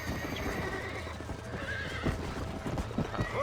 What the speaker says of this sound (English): oh, I can jump using my horse.